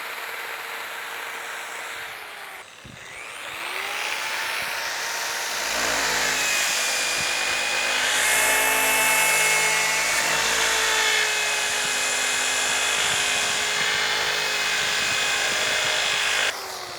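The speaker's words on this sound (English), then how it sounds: "we're going to do a little bit of speed sanding" A power sander whines loudly and continuously against a DeLorean's metal door, spinning up after a brief pause and holding a steady, harsh grinding drone.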